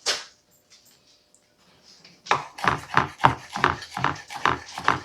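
A kitchen knife chops bacon into bacon bits on a board. After a quiet start, about nine close, evenly paced chops ring out in a brisk rhythm.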